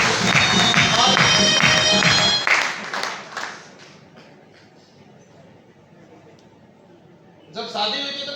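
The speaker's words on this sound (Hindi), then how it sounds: "एक बार जोरदार ताली" An audience at a business seminar in Bhilwara breaks into loud clapping that fades after a couple of seconds into quiet murmuring before another short burst of claps and voices returns.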